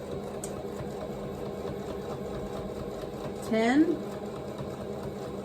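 A sewing machine hums and stitches steadily through a quilted fabric Easter basket, then makes a brief, louder whirring burst near the end, with a voice speaking over it.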